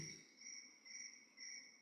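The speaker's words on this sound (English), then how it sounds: "I haven't heard a cricket in a long time." A cricket chirps in steady, high-pitched trills, three pulsing bursts in under two seconds, faint and distant with no voices over it.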